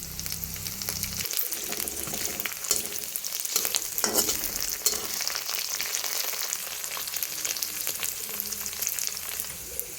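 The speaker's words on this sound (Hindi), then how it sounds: "धीमी आंच में तेल गरम हो चुका है। लहसुन, प्याज, कटे हुए लाल मिर्च" Garlic, onion and chopped red chilli fry in oil heated over a low flame, giving a steady close sizzle with a few stirring clatters, no voices.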